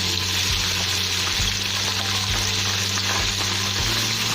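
Sliced onions frying in hot oil for mutton biryani, with a loud, continuous sizzle and periodic stirring scrapes, close up and with no talking.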